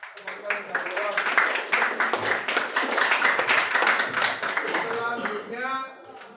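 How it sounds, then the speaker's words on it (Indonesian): Students clap for classmates who answered in a classroom teaching session, a dense, steady round of hand claps lasting several seconds and fading at the end, with a teacher's voice talking over it. "Tepuk tangan untuk teman-teman yang sudah jawab."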